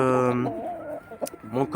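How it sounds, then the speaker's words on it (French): A backyard rooster in a breeding flock gives a nearby, loud crow followed by a few shorter calls and clucks, with no talk over it. "Là, j'ai mon coq"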